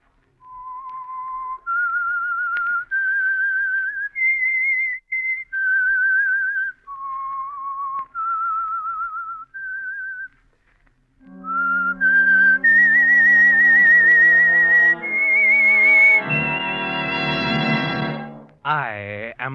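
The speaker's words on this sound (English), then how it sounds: "That whistle is your signal for the Signal Oil program" A lone whistler performs the eerie theme signal of the 1948 radio mystery show The Whistler, a slow melody of clear sustained notes with brief gaps, followed by a swelling orchestral chord that ends the phrase.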